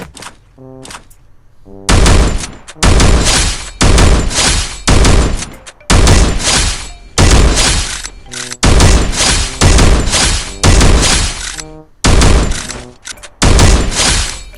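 A Winchester fires in the game Free Fire, with loud close bursts of rapid gunfire, roughly eight clusters of shots separated by short pauses, each burst ending abruptly.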